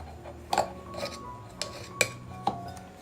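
Fork stirring wheat flour chapati dough inside a steel glass, giving soft scraping under light metallic clinks and taps, a handful of distinct chimes spaced irregularly over a quiet background.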